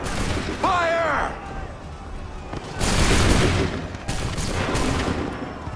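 Musket volley fire from a battle in Assassin's Creed III, with several loud broadband bursts of massed shots and rumbling reports over battlefield noise, and voices shouting among them.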